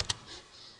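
Typing on a computer keyboard while coding a C++ program, a brief burst of close, quiet key clicks at the start followed by soft room tone.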